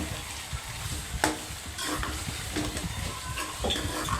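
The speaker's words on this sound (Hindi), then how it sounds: "इसमें चम्मच से हिलाएं" A spoon stirs chicken qeema with black pepper in a hot pan, with a steady sizzle and scattered scraping clicks of the spoon against the pan, close and fairly quiet.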